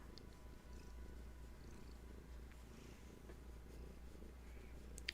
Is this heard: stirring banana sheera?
no